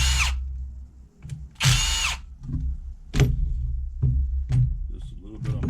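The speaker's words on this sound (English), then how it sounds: "Loosen up these screws in the back plate." Power drill loosening screws on the back plate of an RC nitro car, several short whirring bursts separated by pauses, close and fairly loud, with some speech in between.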